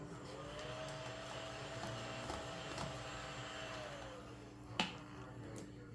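A household vacuum cleaner runs steadily and fairly loud throughout, a continuous motor hum with a brief sharp click near the end and no talking.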